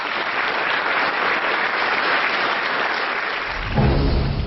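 Sustained television studio audience applause, a dense even wash of many hands clapping that continues steadily throughout.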